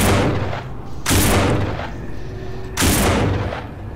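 Three loud, booming gunshots in the video game No More Room in Hell, spaced about a second apart, each trailing off in a rumbling echo, with no talking.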